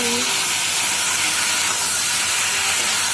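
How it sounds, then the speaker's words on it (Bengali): Potatoes frying in a pan, a dense, loud, continuous hiss and sizzle filling the whole moment without pause, close up and with no one speaking. "এবারে আমি আলুটা ভাজা করছি।"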